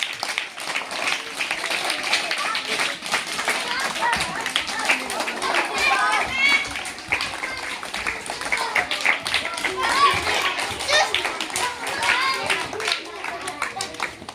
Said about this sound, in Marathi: चला त्यांच्यासाठी जोरात टाळ्या द्यायच्या